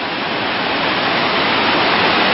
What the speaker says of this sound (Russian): Walking a bit closer to the Niagara Falls again while it's in the different colors.